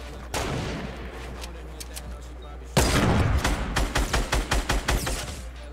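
Gunfire in the Fortnite battle royale video game, first a scattered string of shots, then a louder, rapid run of regularly spaced bursts over a constant low hum, with no clear talk.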